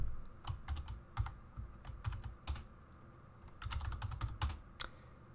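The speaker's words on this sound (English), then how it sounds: "you can type to your heart's content" Quick clicking keystrokes on a computer keyboard while typing in Vim on Linux Mint, close and quiet, with uneven bursts and short pauses and no voices.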